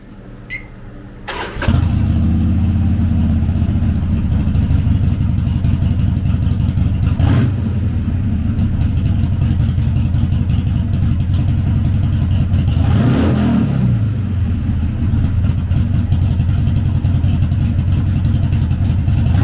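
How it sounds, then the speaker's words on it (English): A 2020 Harley-Davidson Sportster Iron 1200 with a 1202cc V-twin fires up after a brief quiet moment and settles into a loud, close, lumpy idle, rising in two short throttle blips. "Powered by a 1202cc V-twin motor, the Sportster puts 73 foot-pounds of low-end torque through a 5-speed transmission."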